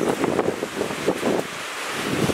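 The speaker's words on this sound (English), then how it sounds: "You can hear that wind right now." Strong headwind sweeping across a lake on a canoe camping trip, roaring in gusts and buffeting the microphone, loud and close, with lapping water underneath.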